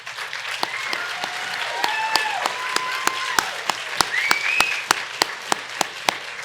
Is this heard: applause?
yes